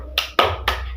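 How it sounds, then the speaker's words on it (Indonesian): Three sharp, distinct claps in a steady rhythm, close and loud, as a classroom does a tepuk semangat clapping chant, with a low hum underneath and no talking. "Tepuk semangat."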